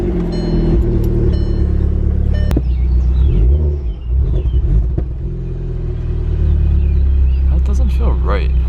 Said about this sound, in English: So I'm going to drive it for a couple minutes.